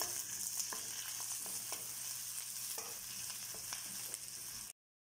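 Lemongrass fries in a pan of oil while cooking ginataang crab, a steady close sizzle with a few soft stirring clicks, continuous and free of voices until it cuts off abruptly near the end.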